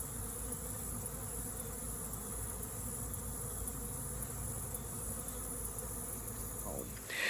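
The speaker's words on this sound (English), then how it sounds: "looking at the bees at this colony as they were doing orientation flights" Dense, continuous buzzing of many honey bees on orientation flights around a hive, close by, a steady hum with occasional individual insects passing near.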